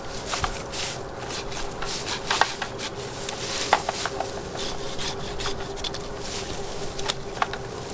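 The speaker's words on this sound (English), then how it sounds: "I can easily make 2-inch cuts without even trying very hard with these saws" Rhythmic rasping strokes of a pruning hand saw cutting through a tree branch, repeated back-and-forth cuts at close range over a faint steady hum.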